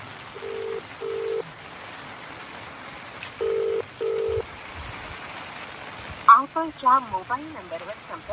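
A phone ringback tone repeats in two pairs of steady beeps over faint background hiss, then a voice begins talking.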